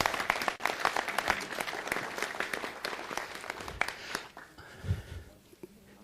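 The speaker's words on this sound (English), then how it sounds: "Give her a round of applause." Applause at a city council meeting for the employee of the month, a sustained round of clapping from the room that thins out toward the end with a few stray claps.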